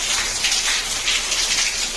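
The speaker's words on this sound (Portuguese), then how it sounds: "Cadê a chuva? Cadê? Tá a chuva ali." Steady rain pours onto surfaces in a dense, hissing wash that stays constant and fairly close, with no talk over it.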